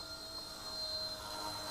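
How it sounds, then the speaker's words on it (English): Eachine E129 RC helicopter, a small flybarless stabilized model, flying indoors in a living room, its rotor and motor giving a faint, steady whine and hum throughout, with no talk. "flying a helicopter in my living room"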